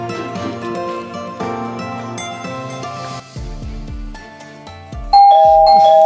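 A home doorbell rings loud and close, giving repeated ding-dong chimes alone with no one talking, over soft background music.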